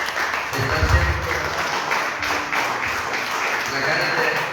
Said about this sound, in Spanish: Quiero darle palmas al Señor